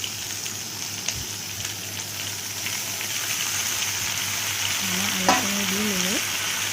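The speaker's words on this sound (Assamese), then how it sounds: "আপোনাৰ কেৰাহী গৰম হোৱাৰ লগে লগে মই মাংসখিনি বহুৱাই দিছোঁ, দি তাত কাটি থোৱা পিঁয়াজখিনি দি লৈছোঁ" Meat, onion and potato pieces fry in a hot kadai with a loud, steady sizzle and occasional stirring knocks. A short tonal squeak rises near the end over the frying.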